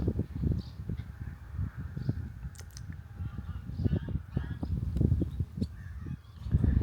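Birds calling near their nest on a beach where cars can drive, harsh honking and cawing cries repeating over a steady rumbling background, with no one speaking.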